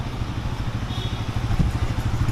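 A motorcycle engine idles steadily with a low, pulsing rumble, close by and continuous throughout.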